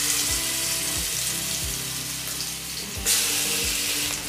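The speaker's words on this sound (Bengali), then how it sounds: "তেল গরম হয়ে গেছে, তাতে আমি মাছগুলো ছেড়ে দেব।" Pieces of boal fish frying in hot oil, a steady broadband sizzle running throughout with a few low thuds and clatters, flaring louder near the end, no talk.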